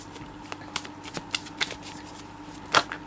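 Tarot cards riffle and slap together in quick repeated bursts of shuffling, close and crisp, ending in a louder flurry, with no talking.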